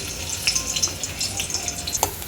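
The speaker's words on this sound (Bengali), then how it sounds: "তেলটা গরম হলে রসুন আর পেঁয়াজটা দিয়ে একটু নরম হওয়া পর্যন্ত ভাজবো।" Garlic and onion frying in hot oil, a steady crackling sizzle with scattered sharp pops and light stirring, close and alone without voices.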